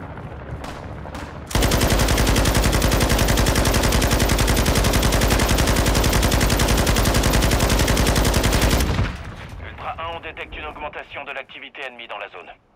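Sustained, very loud automatic gunfire from the video game Warzone blasts nonstop for about seven seconds, then cuts off, leaving quieter game sounds; players talk briefly before and after the burst.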